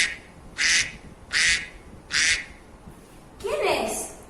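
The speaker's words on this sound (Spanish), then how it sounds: "Ustedes también en sus casas tienen que repetir el sonido del pato" A duck quacks in four short, bright bursts at an even rhythm, each set apart by brief pauses, followed by a lower, trailing squawk; close and clear with faint background hiss.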